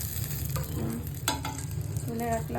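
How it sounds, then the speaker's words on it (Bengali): Rohu fish fry in a pan, a soft continuous sizzle with a spatula stirring and scraping, heard closely under a brief spoken phrase. "রুই মাছের মানে পোনাটা ভেজে দিচ্ছি, এটাও ভাজা হয়ে গেছে।"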